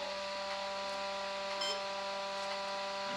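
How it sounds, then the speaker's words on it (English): An Atomic 80 amp brushless electronic speed controller emits faint, steady electronic tones while it is put into programming mode, with a thin hum and no voices. "Okay, that's the first beep."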